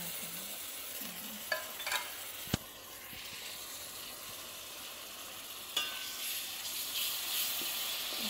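Tuna fries in a pan and is stirred, giving a steady close sizzle broken by a few sharp clinks of the utensil against the pan.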